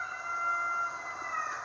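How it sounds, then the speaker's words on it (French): Roosters crowing around midday, a single drawn-out cock-a-doodle-doo heard at a moderate distance over a faint steady background hiss, no voices. "Alors ça, c'est les coqs pendant l'heure de midi."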